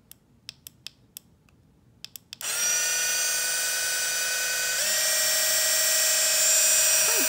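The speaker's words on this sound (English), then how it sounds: "Quite powerful for a hand mixer like this." A cordless wireless hand mixer starts up after several faint clicks and runs alone with a steady, high-pitched motor whine, shifting up to a higher speed partway through.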